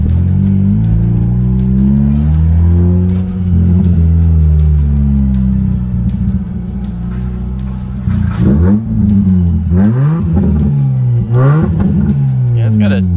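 A Mazda RX-8 engine with a deep, not very raspy tone and an idle problem, heard up close as it revs repeatedly in rising and falling sweeps, loud and steady with a flurry of quick blips near the end.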